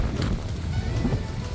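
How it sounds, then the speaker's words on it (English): Wind blows steadily outdoors on a dusty, windy road near Long Point by James Bay, a continuous low rumble buffeting the microphone throughout with no talk. "As you can see, it's quite windy and dusty as well."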